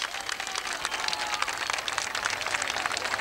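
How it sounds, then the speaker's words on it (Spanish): Crowd of spectators applauding as costaleros lift the Virgen del Carmen from a boat, a loud continuous patter of many hands close by, steady throughout with no speech. "empiezan los costaleros a sacar de la embarcación a la Virgen en medio de los aplausos del público"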